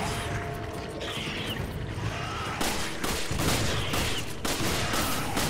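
Dense, continuous gunfire and explosive crashes from the video game Resident Evil 5 fill the whole stretch, loud and relentless with a few sharper bursts.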